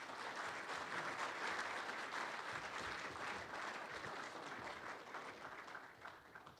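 An audience at a 2013 research and development showcase welcomes a speaker with sustained, even applause from many hands. The clapping fills the room for several seconds, then begins to taper off.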